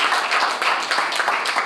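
An audience applauds at a debating match, with steady overlapping claps spread evenly throughout at moderate volume and no voices.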